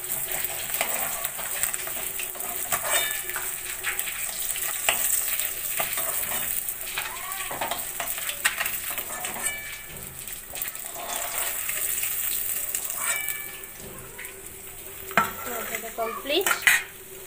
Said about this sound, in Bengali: কড়াইতে আর কটা মাছ আছে, মাছ ভাজাগুলো এখন তুলে দেবে।